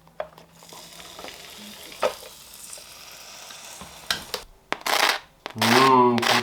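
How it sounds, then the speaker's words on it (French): Vegetable tomato sauce with mushrooms cooks in a pan, a soft low sizzle with scattered utensil taps and scrapes, building to louder bursts of stirring and a brief clatter near the end. "J'ajoute un petit peu de champignons à la sauce tomate légumes. Et c'est parti pour 6 à 7 minutes de cuisson."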